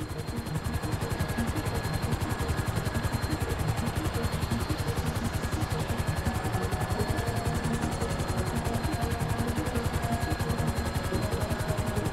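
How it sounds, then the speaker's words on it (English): A helicopter hovers steadily in GTA V, its rotor chopping in a fast, even rhythm that stays loud and unbroken throughout with no other sounds on top. "I need you to hold the chopper above it while I take a look."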